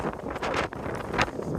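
Wind gusts buffet the microphone in rough, rumbling bursts, loud and close, with no voices, at a Peak District wild camp by a woodland.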